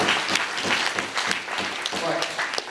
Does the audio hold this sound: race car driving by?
no